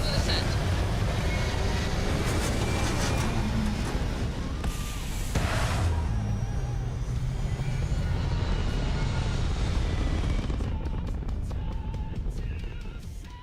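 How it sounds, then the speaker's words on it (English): A spaceship lifts off and climbs in the game Starfield, a loud continuous rumbling roar of engines with shifting tones, a brief surge in the middle and a slight fade toward the end. "Okay. Successful liftoff. Should be a smooth ascent."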